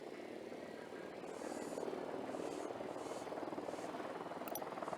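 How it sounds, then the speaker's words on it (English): A helicopter in the Ghost Recon Wildlands video game flies nearby, its steady rotor drone swelling and holding loud across the moment with no talk over it. "Don't need that chopper, stay low."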